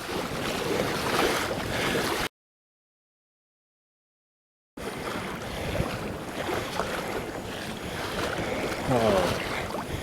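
Wind gusts and water lap and slosh around a fishing kayak in steady noisy waves, interrupted by a few seconds of silence before the rushing resumes.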